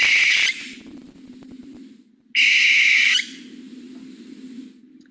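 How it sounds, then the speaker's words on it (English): Two harsh, raspy owl screams, each lasting about half a second to a second, separated by a quiet pause with faint background noise. "owl sound. It's more like a scream."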